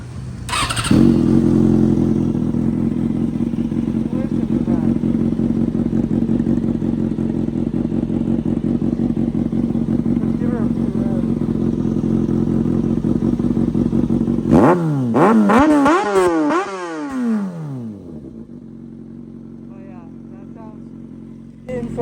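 A Kawasaki Ninja ZX6R with a newly installed custom exhaust idles loudly and steadily up close, then snaps through a series of sharp rising and falling revs before settling back to a quieter idle.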